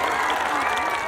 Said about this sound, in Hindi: नागेंद्र पहलवान के नाम पर एक बार जोरदार तालियों से स्वागत करें।